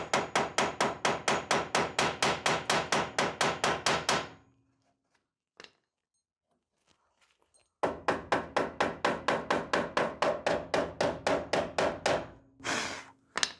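A hammer taps torn sheet metal on a Ford Festiva's core support back into shape, delivering two long runs of steady, rapid, ringing blows separated by a quiet pause, loud and close.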